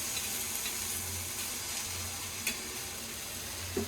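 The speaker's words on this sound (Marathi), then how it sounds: "मस्त अशी मच्छी आता फ्राय होत आहे" Bombay duck (bombil) fish shallow-frying in a little oil, a steady soft sizzle with faint crackles and an occasional clink near the end, no talking.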